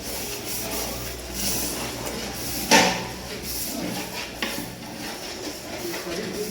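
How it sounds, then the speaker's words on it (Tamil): A spoon stirs homemade chicken biryani with yogurt in a pot, giving a steady close scrape and rustle, with one sharper metallic clank partway through and a lighter knock later. "இது வந்து இப்போ அடி பிடிக்காமல் நான் நல்லா கிளறி விட்டுக்கலாம்"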